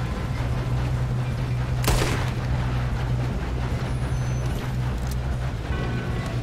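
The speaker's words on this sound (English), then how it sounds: "I shot him in the leg and that killed him." Gunfire from a Red Dead Redemption 2 gunfight, with one sharp, loud crack standing out over a steady low rumble of engine-like drone and scattered background noise.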